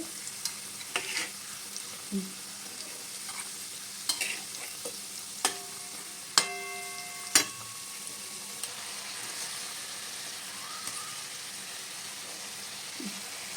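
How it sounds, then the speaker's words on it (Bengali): Tal sundori pitha, palm fritters, deep frying in oil, with a soft steady sizzle and scattered clinks and scrapes of a utensil turning them, fairly quiet throughout. "এটা এপিট ওপিট করে ভেজে নেব আচ্ছা, কত সুন্দর ফুলে ফুলে উঠছে"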